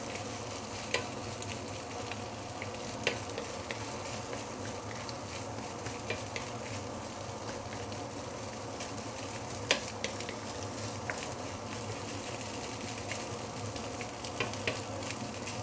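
Rice is stir-fried with canned spiced pork cubes in a pan, giving a soft, constant sizzle with occasional light scrapes and taps of the spatula, quiet and steady throughout with no talking.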